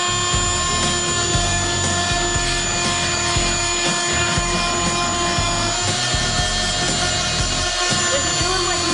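Fein Multimaster oscillating power tool grinding down thin set, a loud, steady buzzing rasp running unbroken throughout.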